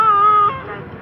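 An animated tiger's voice imitates a cat's meow with one drawn-out, whiny call close to the mic, then trails off.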